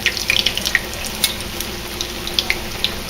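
Funnel cake batter frying in a pan of hot oil gives a steady soft sizzle with small scattered crackles and pops, moderately loud and close, with no talking.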